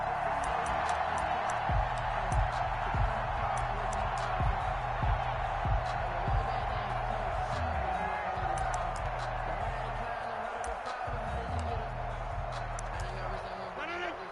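A football video game stadium crowd roars in a steady, broad wash of cheering and noise beneath a play-by-play commentator talking throughout.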